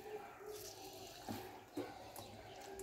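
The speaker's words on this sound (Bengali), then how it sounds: "সবজির যে জলটা ছিল সেটা বেরিয়ে গেল।" Water is squeezed out of salted, chopped vegetables for veg momo filling, a quiet wet trickle and a couple of soft splashes heard close up, with no talking.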